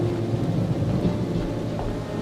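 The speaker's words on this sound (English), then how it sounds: "I see that Baal is sending us rain." Steady rain with rumbling thunder in an animated Bible story about Elijah and King Ahab's drought, a dense continuous downpour with low thunder rolling throughout, loud and close, with no voices.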